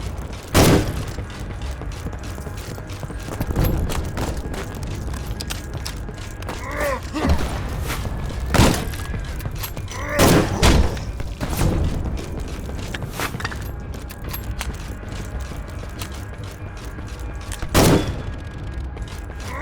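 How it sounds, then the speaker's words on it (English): Guns firing and bolt-cocking in the trench shooter Conscript, with sharp reports spaced irregularly across the stretch, some louder and closer than others, and mechanical clicks and creaks between shots over a steady rumbling battlefield bed. "when I fire this gun, I need to press reload button twice, once to cock the weapon and once to reload it."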